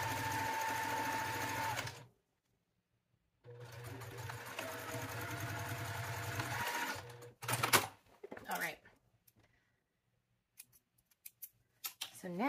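Sewing machine running bursts of stitching along a quarter-inch fabric seam for a project bag, steady motor hum for about two seconds, a pause, then a longer run, followed by sparse clicks and handling noises.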